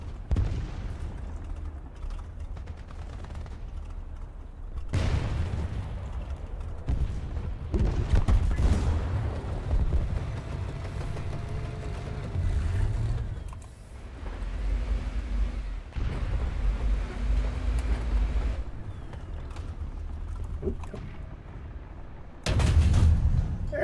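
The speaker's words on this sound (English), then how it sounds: "I'm seeing so much gunfire over here." Gunfire and explosions in a tank battle game, with booming blasts and crackling shots that rise and fall over about twenty seconds beneath a continuous rumbling din.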